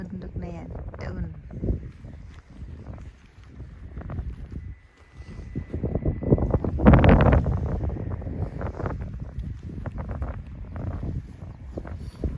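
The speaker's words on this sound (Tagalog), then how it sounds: "it's windy because the fog is going out now" Gusty wind buffets the microphone on a foggy mountain hike up Volandstind in Flakstad, swelling to a strong burst midway, with people talking throughout.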